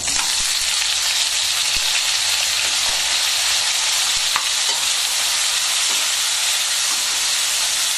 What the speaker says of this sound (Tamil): இதை வந்து லைட்டாக ஃப்ரை பண்ணிக்கலாம்.